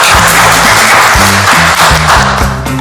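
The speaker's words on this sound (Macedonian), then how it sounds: "еден аплауз за молам." An audience in a TV cooking reality show studio applauds a jury member, a loud, steady wash of clapping that sits over a band playing beneath it.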